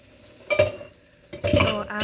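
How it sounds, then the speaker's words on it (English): A utensil stirs cauliflower rice with vegetables in a pan, making two bursts of clinking scrapes against the metal over a faint sizzle, close up with no talk. "you want to stir everything around like you see me doing here"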